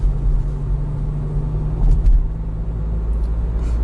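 Renault Clio cruising a winding road in fog near Chungju Lake, a steady low cabin rumble of engine and road noise with a few faint clicks, continuous and close, no speech.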